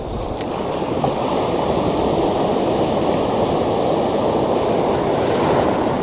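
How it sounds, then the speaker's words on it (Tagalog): Loud, continuous surf roaring steadily at Long Point, Palawan, with big waves washing in close by and no pauses or voices. "Lalaki na alon."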